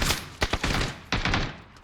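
Gunfire in the PUBG battle royale video game: a few sharp bursts of shots in quick succession, moderately loud and close, with no talking over them.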